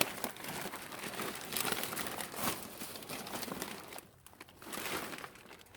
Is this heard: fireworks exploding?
no